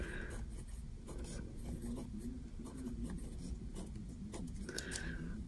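A fountain pen loaded with a shading ink writes on Cosmo Air Light paper, giving a steady, close, soft scratchy rubbing with small strokes and pauses, with no talking over it.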